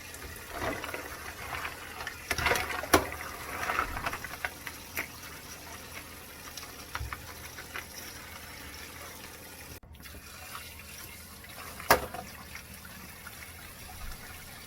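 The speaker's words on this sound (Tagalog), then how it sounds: "Hugasan natin ng mga ilang oras, ng mga ilang hugas ang ating tahong para malinis siya." Fresh mussels rinsed under running tap water in a kitchen, with a soft intermittent trickle and splashing and occasional louder clatters and gushes.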